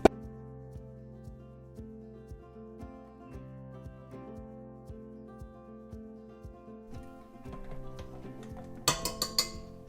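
Egg whites being beaten in a bowl for a mango cake, a quick, regular clinking of a whisk against the bowl that grows busier and louder toward the end.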